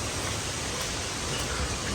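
Loud, continuous broadband rush of a waterfall in the Lake District near Wray Castle, steady and close with no breaks.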